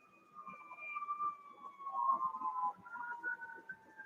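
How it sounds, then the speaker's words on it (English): Emergency vehicle sirens wailing in a town, faint and distant, with long sliding tones overlapping and slowly rising and falling. "There are a ton of sirens going off in town."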